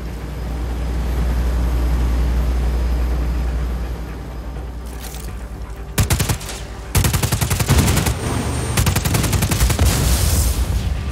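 Rapid bursts of automatic gunfire fired at a generator in the Just Cause 4 video game, loud and close, coming in dense volleys over a low engine-like rumble after an initial stretch of steady droning.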